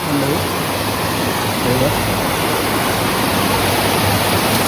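A small forest stream near a house in the Konkan countryside, where a crab trap is being set, pours in a steady loud broadband rush that holds through the whole stretch, with faint voices beneath the water.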